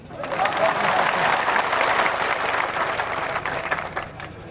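A crowd at a political rally in India bursts into sustained applause, loud and dense, swelling quickly and holding steady for several seconds before easing slightly.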